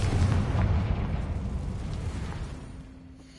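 A Confringo fire spell explodes in Hogwarts Legacy, a loud booming blast at the start that rumbles and slowly fades over a few seconds, with no talk over it.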